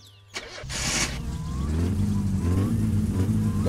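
A car engine in My Summer Car starts with a brief catch, then revs and climbs steadily in pitch, loud and continuous, with a faint voice in the background.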